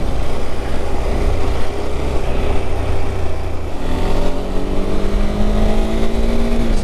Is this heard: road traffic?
yes